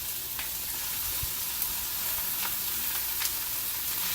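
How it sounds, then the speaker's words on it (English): Ground beef and ground pork frying with onion in bacon grease in a big skillet, giving a steady close sizzle with faint stirring scrapes and occasional pops, no voices. "put your onion in the bacon grease and cook it in that"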